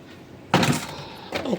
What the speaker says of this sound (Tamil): வச்சுட்டு ஃப்ரிட்ஜை க்ளோஸ் செய்யும்